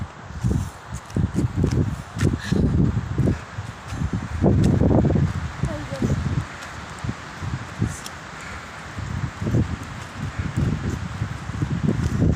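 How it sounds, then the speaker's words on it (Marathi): Wind gusting through trees on an empty road in Manali, with a waterfall and rain somewhere nearby; a steady broad rushing swells in repeated low buffeting surges, loud and close, with rustling throughout. "हा वाऱ्याचा आवाज आहे"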